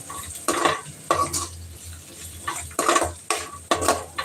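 Onions sauté in a pan under a low sizzle while a spatula stirs them in rhythmic bursts, scraping and knocking against the metal several times.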